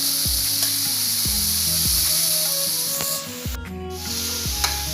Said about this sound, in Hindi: प्याज को मीडियम फ्लेम पे हम 5 मिनट तक फ्राई करेंगे